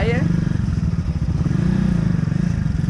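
Taiga motorcycle, a new Paraguayan-brand bike, engine chugging in a rapid pulsing rhythm while riding, close and steady, with a brief rising whine at the start.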